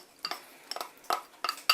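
Ham laid into a gratin dish for a Swiss chard and Comté gratin: a handful of light clinks and taps against the dish, close and distinct, in quick irregular succession.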